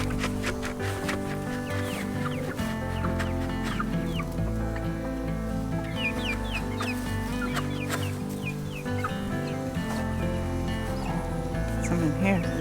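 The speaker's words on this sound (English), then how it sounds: "Come on, chicks, look. There's some protein for you." Chicks clucking and peeping at feeding time on a farm: many birds chirp and cluck close by in a busy overlapping chorus, mixed with steady low background noise, and a person talks among them.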